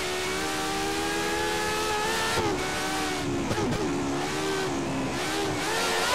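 A Formula 1 race car engine in the F1 2013 video game screams at high revs, with pitch rising and dipping through gear changes, loud and continuous with no talk.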